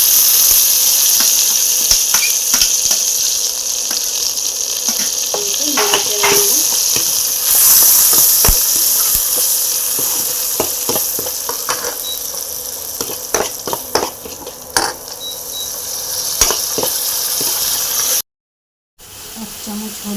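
Ginger, garlic and chili paste frying in a pan for an arum stem ghonto, a loud, continuous hissing sizzle scattered with sharp crackles and spatula scrapes that thins toward the end before a short silent break.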